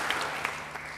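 A church congregation applauds, a brief, steady wash of clapping heard at a moderate distance.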